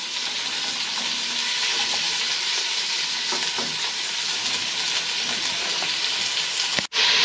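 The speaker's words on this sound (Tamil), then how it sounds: "வெங்காயத்தை 5 நிமிஷம் வறுக்க சொல்லியிருக்கேன்" Onions fry in a pan for Tamil Nadu style chicken biryani, giving a loud, continuous close sizzle and hiss that holds steady throughout before a brief drop near the end.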